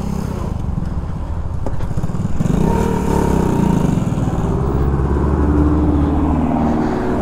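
A Shineray 50cc motorcycle rides along in gear on a delivery run, its small engine droning loud and close with a steady buzzing rumble that swells slightly as it pulls ahead, no talking over it.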